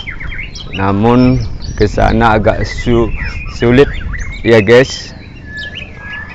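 Songbirds such as murai, kacir and lovebirds call at a bird-song contest in Singkil, their chirps running beneath someone speaking close by.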